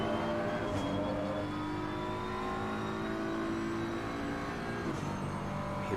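A BMW race car in Assetto Corsa, racing at Indianapolis, rolls on the throttle with a loud, steady engine drone rising in pitch as it accelerates, a brief gear shift near the end, no voices.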